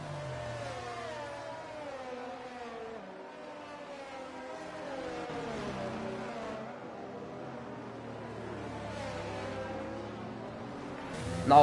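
Race car engines in a racing video game at the Circuit of the Americas, a steady droning whine that rises and falls in pitch as cars accelerate and shift, continuous throughout, ending in a brief louder burst.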